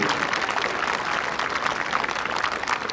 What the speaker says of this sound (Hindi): शानदार शानदार शानदार तालियां बजाइए उन सबके लिए